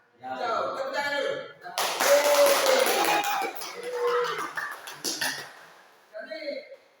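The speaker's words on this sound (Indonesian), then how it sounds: "Tepuk tangan dulu." Students clap together in a classroom, a burst of brisk applause mixed with voices and chatter, followed by a short pause and some talking.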